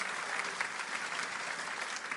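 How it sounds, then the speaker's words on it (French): A church congregation applauding during a sermon by a pastor in Mulhouse, a dense continuous patter of many hands heard from some distance, steady and unbroken, with no speech over it. "je voudrais que vous vous applaudissiez en mon nom"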